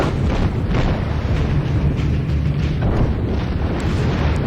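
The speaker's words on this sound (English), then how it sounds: "so our secondaries are opening up" Secondary guns of the battleship South Carolina opening fire in World of Warships, a continuous loud wash of booming gunfire and blast rumble with no break and no talk.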